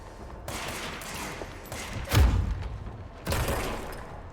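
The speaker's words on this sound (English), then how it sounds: "You push him and then you do a gunshot." Gunfire bursts and heavy impacts in the video game Control, loud rattling volleys with a deep thudding blast in the middle, heard close with no talking.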